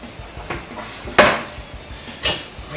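A spoon stirs stevia sweetener into food in a bowl, giving three sharp, close clinks and scrapes against the bowl spaced over a few seconds, with no talking.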